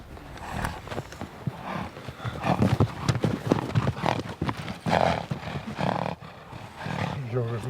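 Wild horses on the steppe being broken in thunder about in a dense, chaotic rush of hoofbeats, snorts and rumbling, loud and continuous with squeals near the end.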